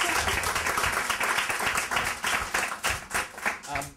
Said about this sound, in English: So could we please give Beth and Katie a round of applause?